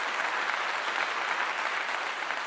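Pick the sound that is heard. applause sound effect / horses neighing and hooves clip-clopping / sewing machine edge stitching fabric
applause sound effect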